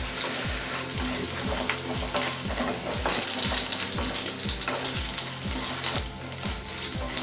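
Okra sautéing with salt in a pan gives a steady close sizzle and hiss, with a regular low thumping rhythm running underneath throughout and no voices.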